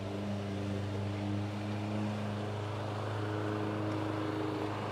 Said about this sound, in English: cutting the lawns.